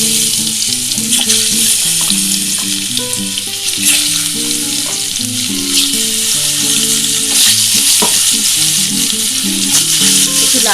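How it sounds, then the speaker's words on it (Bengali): Potatoes fry in hot oil with a loud, dense, continuous sizzle, layered over steady background music. "আমার তেলটা গরম হয়ে গেছে আমি আলুগুলো"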